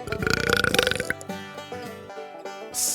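A wet, gurgling belch rolls out loud and close, a burping sound effect with a rattling start that stretches into a long, throaty drawn-out tail.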